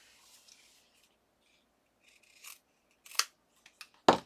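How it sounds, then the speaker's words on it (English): Fabric scissors snipping through fraying fabric while making a faux hinged accordion booklet, heard as a few sparse, close, crisp snips with short quiet gaps, the last cut loudest. "Oh, I need my fabric scissors."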